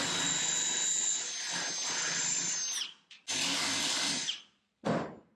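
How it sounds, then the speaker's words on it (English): A power drill whirs steadily for about three seconds, then two more short bursts of drilling follow with brief pauses between, loud and close. "We'll drill the other hole out."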